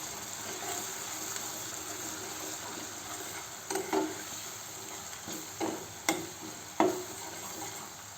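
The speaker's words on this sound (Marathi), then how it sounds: "अर्धा चम्मच धने पावडर, असं छान फिरवून घेऊ" Half a spoon of coriander powder is stirred into jackfruit bhaji in a pan. A soft, steady sizzle runs throughout, and several distinct scraping strokes of the spoon come in the second half.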